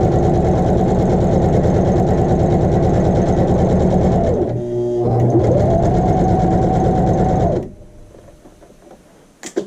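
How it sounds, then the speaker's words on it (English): A sewing machine runs a French seam, a loud close rapid whirring that dips briefly as stitching reverses for a back stitch, resumes, then stops, leaving faint handling sounds. "Let's go forward. 1, 2, and 3, and then back."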